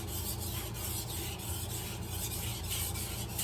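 A kitchen knife is sharpened with push-only strokes at a shallow angle, giving a close, steady rasping scrape with faint repeated stroke pulses over about three and a half seconds.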